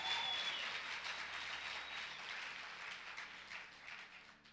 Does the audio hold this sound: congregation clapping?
yes